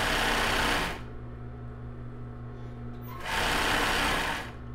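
Sewing machine stitching a plus-size bra with raw Jaraguá elastic, running in two loud bursts of steady whirring at the start and end with a quieter pause between.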